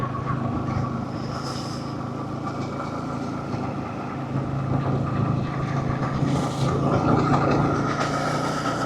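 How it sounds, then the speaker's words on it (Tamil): Steady wind rush and engine rumble from a moving motorbike, a continuous roar with buffeting gusts, no voices. "காற்று வந்து தள்ளுதுடா பைக்கு."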